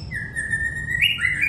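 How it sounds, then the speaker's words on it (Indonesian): A single clear, close bird call, a sustained whistled note that rises and bends near the end, heard alone over faint low background noise. "Tapi heran nih burung kalau ngeliat musuh udah kayak kesetanan ya"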